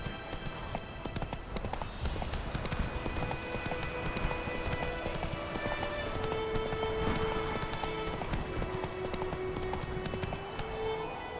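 Roach the horse gallops in The Witcher 3, a steady rapid clip-clop of hooves carrying through the whole stretch over a bed of game ambience and rain-like patter, with a sustained musical tone entering midway.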